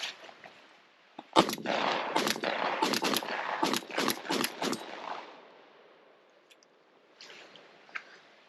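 A Mossberg 930 shotgun fires cheap trap ammunition in a quick series of about seven sharp shots, some spaced and some nearly back to back, heard from a moderate distance with no speech.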